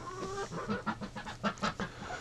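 Chickens cluck in a coop on a cold, windy day with ducks sheltering indoors, a close cluster of short, irregular clucks and murmurs from several birds.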